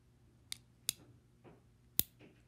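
A Smith & Wesson 686 Plus .357 Magnum revolver dry-fires with sharp, isolated metallic clicks: a few crisp snaps of the hammer falling on an empty cylinder, close and loud, spaced irregularly with faint handling noise between.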